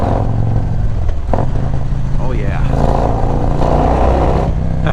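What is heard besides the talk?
Harley-Davidson motorcycle exhaust revving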